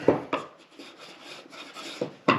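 Several short, scraping rasps ring out as a Veritas pocket plane is pushed across the corner of a piece of wood, fairly close and distinct, with quieter rubbing noises between strokes.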